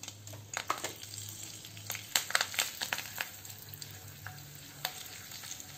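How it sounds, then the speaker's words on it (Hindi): Ground red chili, coriander and cumin spices with salt frying in a pan over a low flame for misal, a steady close sizzle with scattered crackles and spoon scrapes as they are stirred. "मसालों को हमें लो फ्लेम पे ही डालना है।"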